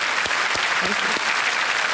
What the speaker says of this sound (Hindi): एक बार जोरदार तालियां बज जाए मरियटा के लिए